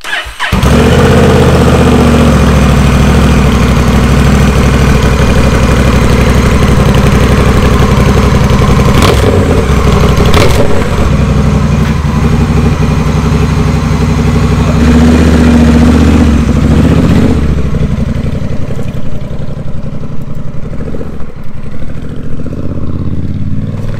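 A Honda Rebel 1100 motorcycle with a Vance and Hines exhaust starts up and idles loudly nearby, with a few sharp revs blipped in before the engine settles and fades toward the end.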